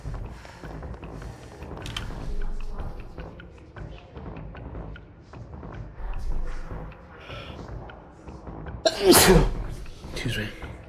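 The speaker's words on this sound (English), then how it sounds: "I was curious how the sneeze would sound and look on the tracking." A single loud, sharp sneeze bursts out close by near the end, after a stretch of quiet room noise with faint rustling and shuffling.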